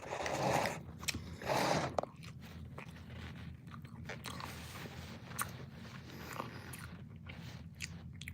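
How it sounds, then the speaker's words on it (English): Loud, close chewing and biting on crunchy food, with heavy crunches in the first two seconds and softer mouth noises continuing throughout. "no one can complain about my loud ass chewing"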